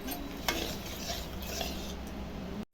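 Yogurt with turmeric and salt is beaten in a bowl, giving a continuous close wet whisking and stirring with a couple of sharper clinks.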